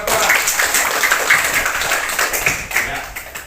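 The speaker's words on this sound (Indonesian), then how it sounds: "Tepuk tangan pada kelompok 2" A classroom group applauds a small team of students as they return to their seats, with dense, steady clapping throughout and a hint of voices mixed in.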